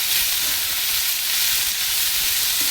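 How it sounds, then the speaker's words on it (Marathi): Bitter gourd stir-frying in a pan gives a steady, close sizzle with a dense crackling hiss throughout, without pauses or voices. "मस्त याला ना थोडं परतायचं आपण 2 ते 3 मिनिटं"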